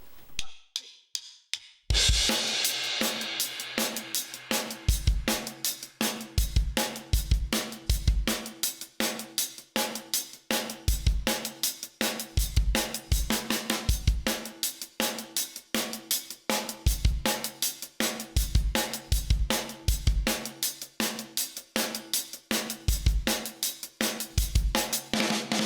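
Drum kit playing the first verse groove of a song, a steady loud beat of punchy kick hits and snare backbeats under constant bright cymbal wash, entering after a short quiet lead-in and continuing throughout.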